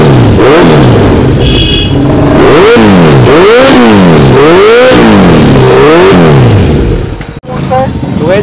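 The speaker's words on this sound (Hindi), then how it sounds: "और ये स्कॉर्पियन का ओरिजिनल एग्जॉस्ट है।" A superbike fitted with an original Scorpion exhaust revs hard and close, its engine note swooping up and down in repeated loud throttle blips that fill nearly the whole stretch before a sudden dip near the end.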